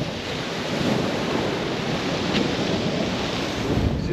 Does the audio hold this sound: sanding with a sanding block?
no